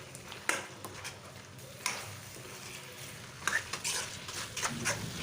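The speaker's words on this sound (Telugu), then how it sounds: "ఫ్లేమ్ని మీడియం ఫ్లేమ్లో ఉంచుకొని ఈ మసాలాలను రెండు నిమిషాలు ఫ్రై చేసుకోవాలి" Masala spices for chicken gravy frying over a medium flame as a spoon stirs and scrapes the pan: intermittent clinks and scraping strokes over a faint, low sizzle.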